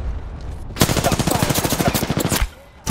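Rapid automatic gunfire in a shooter video game, a loud sustained burst of evenly spaced shots lasting well over a second, then a short pause before more firing.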